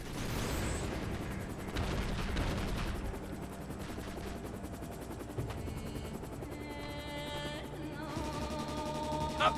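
Gunfire erupts in Syphon Filter: Logan's Shadow as an assault helicopter attacks, dense rapid bursts layered over a steady rotor drone and in-game combat score, loud and continuous throughout.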